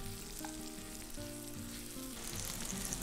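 Onion and beans frying in a pan on a homemade brick cooker over an open garden fire, giving a steady close sizzle and crackle with faint stirring, no talk.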